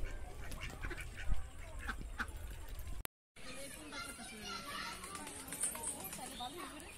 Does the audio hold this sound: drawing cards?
no